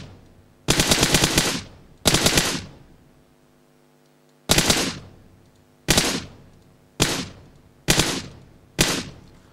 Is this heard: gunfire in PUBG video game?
yes